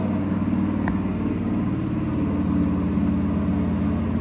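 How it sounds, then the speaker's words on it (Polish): An 11-year-old 2013 Honda XL125 Varadero motorcycle is switched on and idles, a brief click of ignition followed by a steady, even low engine hum held close and alone. "Kluczyk przekręcony, Klikamy sobie zapłon."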